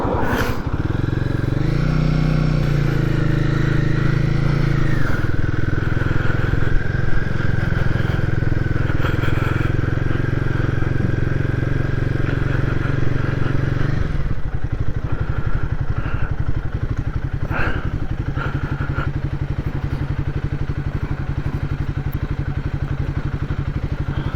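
A Royal Enfield Guerrilla 450 motorcycle being ridden, its engine holding a steady mid-pitched drone that shifts tone partway through, with some clatter and thumps over the running engine.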